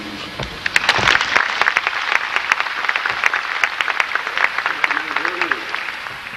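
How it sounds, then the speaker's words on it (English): A large outdoor crowd at a 1990 Grumman rollout ceremony applauds in a dense, sustained wash of clapping with occasional sharper claps, a faint voice briefly audible underneath. "It does my heart good to see each and every one of you out here applauding and supporting."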